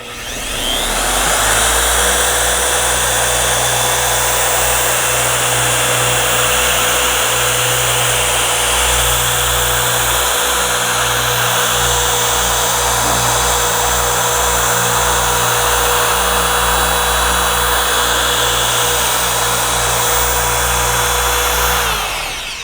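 A TORQ X polishing machine runs at speed setting 6, working a final polish into car paint. It hums loudly and steadily at close range for the whole stretch, with a constant whine and a low rumble underneath.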